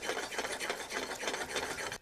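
A fork's back scrapes and stirs omelet eggs in a skillet, a soft, steady rhythmic rubbing with repeated strokes, close and quiet, then it stops abruptly.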